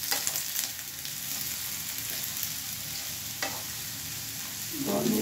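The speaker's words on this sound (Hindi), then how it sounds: "भुजिया लगता है हो चुका है काम करके और ढक के पका रहे हैं और इसको खाली कर रहे हैं" A spatula scrapes and stirs fried potato bhujia out of a pan, a steady soft sizzle and scraping with a few sharper metallic scrapes, fairly quiet and close.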